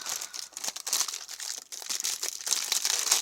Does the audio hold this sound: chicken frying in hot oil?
no